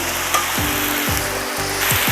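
Minced meat with carrot, onion and cabbage sizzles in a cauldron, a steady frying hiss broken by a few rhythmic scraping stirs, close and alone with no talk.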